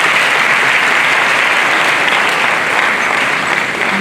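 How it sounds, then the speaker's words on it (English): A large audience at a graduation ceremony applauds steadily and loudly, the dense, even clapping continuing unbroken for about four seconds with no talk over it. "please let's applaud him once again."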